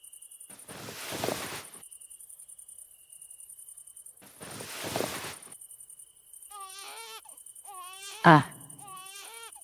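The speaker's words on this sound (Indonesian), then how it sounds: "Suara bayi nangis lagi." A cartoon infant's cry rises in short wailing bursts late in the clip, preceded by two broad noisy swells, with a steady high insect-like chirp running throughout.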